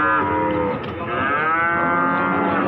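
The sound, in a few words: Ongole crossbred cow mooing at cattle market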